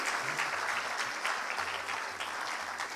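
An audience at a formal event on Parsis in modern India claps for the dignitaries seated on the dais, a dense, steady round of applause that holds evenly throughout without talk.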